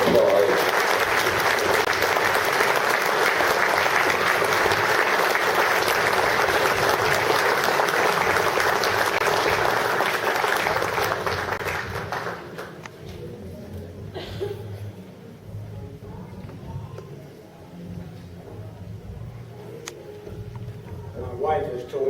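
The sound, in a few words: warm round of applause for Colonel William Gavan at banquet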